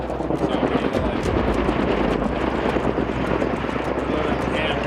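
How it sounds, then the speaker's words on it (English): Helicopters fly continuously over a wildfire near a mountain ridge during an archery elk hunt, a loud, steady rotor drone and rumble that fills the whole stretch without pause. "non-stop choppers"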